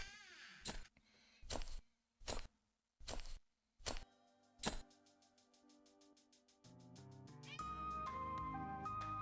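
Cartoonish cat meows in the video game Venba, a series of short separate mewing calls repeating near and fairly loud, followed by soft chiming game music.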